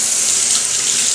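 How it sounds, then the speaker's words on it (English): Water runs steadily from a bathroom tap into a sink, a continuous close hiss of flow with no voices over it. "so I'll get the water running"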